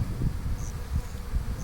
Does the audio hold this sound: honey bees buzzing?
yes